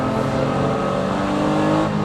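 Naturally aspirated engine of a Honda NSX-R while driving, a loud, steady, close-up drone with no talk over it.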